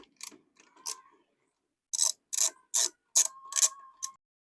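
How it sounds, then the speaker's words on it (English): A bolt being unscrewed from the coupling of an eBike cargo trailer gives a run of close, bright ratcheting clicks in short bursts, with a few quieter mechanical taps before them and no talking. "So I'm going to go ahead and remove that bolt."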